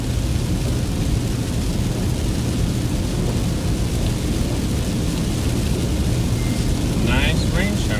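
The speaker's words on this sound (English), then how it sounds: "Nice rain shower." A steady rain shower during the lead-up to Tropical Storm Hilary in August 2023, heard as a dense, even wash of falling water with a continuous low rumble, loud and unbroken throughout.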